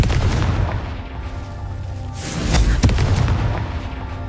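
A Confringo fire spell explodes in the Hogwarts Legacy video game, a dense rumbling boom with sharp bursts near the middle swelling over a continuous loud low roar of game sound.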